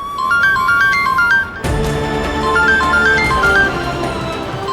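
A mobile phone plays a bright, repeating melodic ringtone, loud and close, with a brief dip before the tune resumes more fully and continues ringing throughout.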